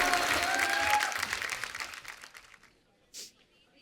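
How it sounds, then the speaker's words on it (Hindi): A studio audience on a television comedy set claps loudly at first, then the applause thins and fades out over a few seconds, ending with a short isolated rustle. "तो एक बार फिर से जोरदार तालियां ऋतिक रोशन और वानी कपूर के लिए।"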